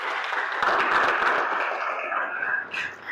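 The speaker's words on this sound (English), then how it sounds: "Please, a round of applause for" An audience applauds at a maritime education event: a broad, steady wash of clapping that stays even and moderately loud throughout, with slight voice-like sounds mixed in near the end.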